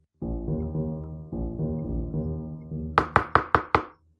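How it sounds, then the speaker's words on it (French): A wolf knocks on a wooden door in a children's story of the three little pigs: after a sustained low horn-like tone, five loud, sharp knocks ring out in quick, even succession. "À peine celui-ci eut-il refermé la porte que le loup frappa."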